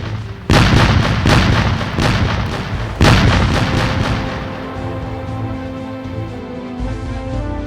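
Artillery fire in a World War II battle near Montese, Italy, in April 1945: two loud, heavy booms about two and a half seconds apart, each followed by a long rumbling decay, with no talk.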